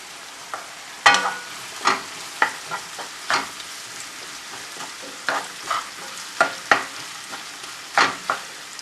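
An inch of ginger and three cut chilies frying in a pan, giving a soft sizzle punctuated by a dozen or so sharp, evenly spaced clacks and scrapes of stirring, close and clear with no talk.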